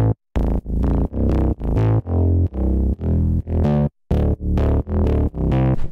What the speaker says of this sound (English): This is the drop bass.